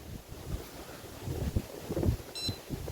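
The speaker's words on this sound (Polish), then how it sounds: "Strasznie wieje, nie słychać mnie." Strong wind buffets a microphone outdoors by open water during a freezing predator-fishing outing, a low, gusty rumble that runs throughout and swells in uneven pulses.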